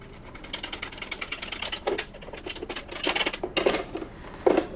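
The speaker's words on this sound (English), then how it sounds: "there are 2 little screws you need to remove." Two small screws being undone on the head of a Prolux Dual Brush Micro Scrubber, producing a rapid, steady run of close, light ticking and scraping with a few louder clicks toward the end.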